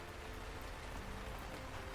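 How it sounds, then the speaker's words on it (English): Heavy rain hammers against window glass in a raging storm, a dense, even patter of drops with no let-up, soft and distant in level. "The rain pounded on the window glass."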